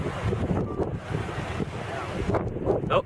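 Strong gusting wind buffets the microphone beside a tornado roping out near Millsap, Texas, a continuous loud roar and rumble that swells and dips for about three seconds with no clear talk.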